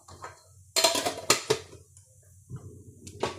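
Mustard seeds, urad dal and fenugreek spluttering in hot oil, a close burst of crackling pops and sharp metallic clatter, then a quieter pause before a few more pops.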